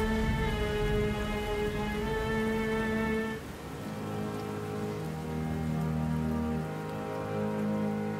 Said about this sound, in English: Rain pelted the broken kite.